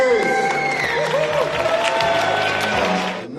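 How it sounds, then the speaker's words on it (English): Loud, continuous crowd applause for the winners at a Global Management Challenge awards ceremony, steady throughout with tonal sounds that may be music mixed in, ending abruptly. "Enormous applause"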